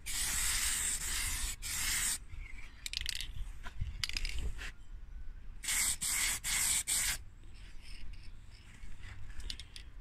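A rattle can sprays light coats of silver paint over plastic primer, heard as a few sharp hissing bursts separated by quieter handling noise and pauses.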